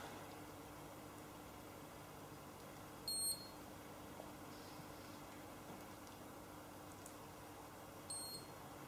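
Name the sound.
final beep of a galvanic spa machine ending a phase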